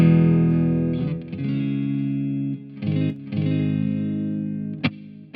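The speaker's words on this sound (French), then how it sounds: "Puis la reverb sonne plutôt bien." An electric guitar played through a Fat Blob effects unit with reverb rings out in sustained, washy ambient chords. The swells hold, then break off into short choppy strums and a sharp accent before sustaining again, loud and close with no voices.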